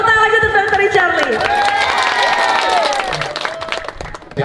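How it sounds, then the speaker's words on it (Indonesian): Applause for Dr. Richard Lee at a gathering at an Indonesian pesantren, dense clapping and crowd noise filling the whole stretch, loud and close, with music or tonal sounds running over it. "tepuk tangan aja untuk Dr. Richard Lee"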